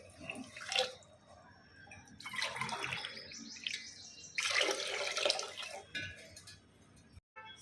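Water is poured in several splashy bursts onto washed rice and moong dal in a pressure cooker, with short pauses between pours.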